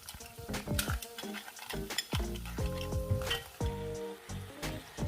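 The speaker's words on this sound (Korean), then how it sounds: "껍질 벗긴 토마토를 다시 넣고 물러질 때까지 더 볶아준 다음 홍합 투입" Peeled tomatoes and mussels stir-fry in a pan, a steady sizzle broken by repeated clacks and scrapes of shells and utensil against the pan, close and fairly loud throughout.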